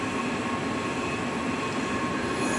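Heidelberg Jetfire 50 production inkjet printer feeds sheets in simplex mode, giving a steady dense mechanical rumble and hiss, loud and unbroken with no speech.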